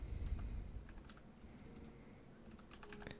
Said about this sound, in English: We'll type in Minecraft